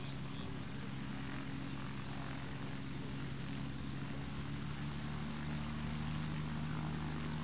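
A 1953 Cessna 182B runs up for a STOL demo takeoff. Its propeller engine gives a steady, even drone with a low hum that stays constant throughout, fairly faint and at some distance.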